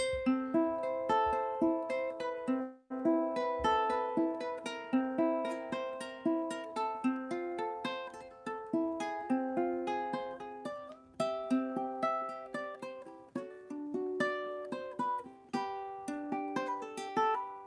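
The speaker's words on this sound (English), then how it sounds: "If I play that same thing on a high G ukulele," A bright, plucked high G ukulele plays a melodic bass line with a light, thin tone, notes ringing continuously at a steady moderate tempo.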